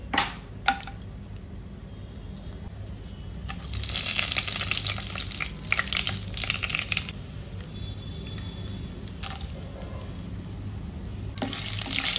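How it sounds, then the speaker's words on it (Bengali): Ingredients frying in hot oil in a home kitchen, a soft crackling sizzle that swells and fades in bursts over about twelve seconds, with a couple of sharp clinks at the start. "তো তেল অলমোস্ট গরম হয়ে গেছে, তো তোমাদের দেখাই আমি ফার্স্টে কি কি দিচ্ছি"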